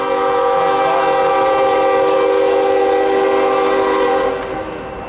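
A loud train horn sounds at Sorrento Valley, San Diego, where a train led by Warbonnet-painted locomotives passes. The chord blares steadily for about four seconds, then eases off, with no talk over it.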